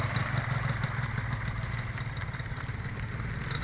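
A Yamaha TZM 150 motorcycle idles steadily with a fast, even low putter and a light mechanical clatter on top, close and continuous, no voices.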